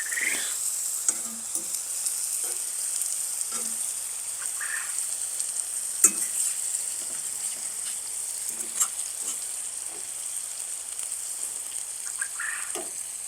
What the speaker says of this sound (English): I hear my chicken over here sizzling